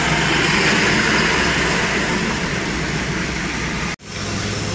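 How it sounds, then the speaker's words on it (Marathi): Road traffic is jammed with large container trucks on a highway, a dense steady rumble and roar of engines that is loud and continuous, with a brief break near the end. "मोठमोठे कंटेनर गाड्या आणि यांच्यामुळेच खूप असं ट्रॅफिक जाम होतंय असं वाटतंय"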